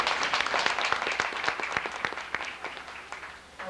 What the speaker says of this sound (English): How about a round of applause for our skipper?